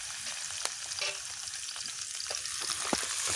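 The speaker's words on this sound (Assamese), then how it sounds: "এয়া পিঁয়াজ পেলাবলৈ লৈছোঁ" Chopped onion frying in hot oil gives a soft, steady sizzle close by, with a few light scrapes and taps in a quiet kitchen and no talking.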